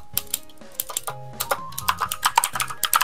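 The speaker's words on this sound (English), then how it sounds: "Pardon my extremely loud keyboard." Loud computer keyboard typing during a Pokémon game discussion, a rapid irregular run of sharp key clacks close to the microphone, accelerating toward the end, with no talking.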